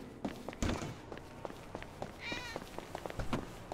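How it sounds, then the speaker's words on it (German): A cat meows in GTA 5, with a wavering call near the middle amid steady in-game footsteps and taps, moderately close and fairly clear. "oh, schon wieder eine Katze"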